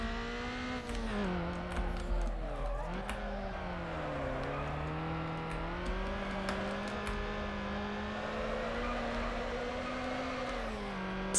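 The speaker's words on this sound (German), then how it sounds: "der Drift hier ist gerade mega gut" Car engine whining and rising and falling in pitch as a car drifts in Need for Speed Underground, a steady revving drone that wavers through the slide, no voices.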